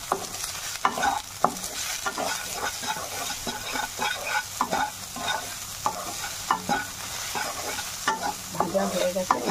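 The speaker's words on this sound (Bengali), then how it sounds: "হালকা করে একটু ভেজে নেবো" Soyabean fries lightly with a little salt in a pan for a soyabean, cauliflower and potato curry, the spoon scraping and stirring in repeated close strokes over a soft steady sizzle.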